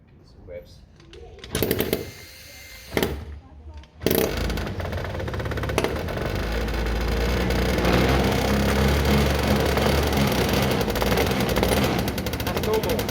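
A Derbi 100cc two-stroke motorcycle fires after a couple of short bursts, then settles into a loud, continuous buzzing rev that holds steady close by.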